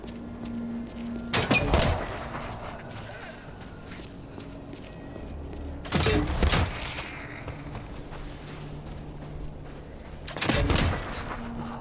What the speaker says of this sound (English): The big shot, how it explodes them with fireworks.